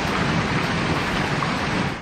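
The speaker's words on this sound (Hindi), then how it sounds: "इस तूफान के साथ भारी बारिश हुई," Heavy rain pours steadily during a thunderstorm that brought hail in Colorado, a dense, loud and continuous roar of falling water with no breaks and no voices.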